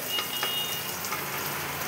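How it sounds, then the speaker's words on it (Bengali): Onion frying in a pan for a breakfast dish of oats, giving a steady, soft hiss that runs unbroken at a moderate level with no talk. "অল্প পেঁয়াজ দিয়ে এটা একটু ভাজা ভাজা করে নেব"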